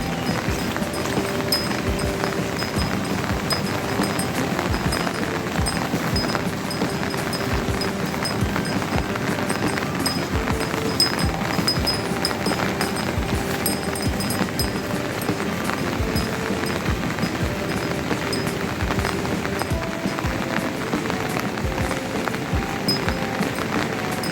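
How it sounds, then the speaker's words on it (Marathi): A big river heard from a distance in foggy, hilly farmland, a steady broadband rush of flowing water that stays even and unbroken, with some wind across the microphone. "आवाज पण येतोय ना पाण्याचा"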